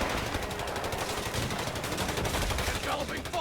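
Rapid machine-gun and rifle fire rattles in the Company of Heroes 3 war game during a 3v3 battle, a loud, dense, continuous barrage close up with a soldier's shouted voice mixed in.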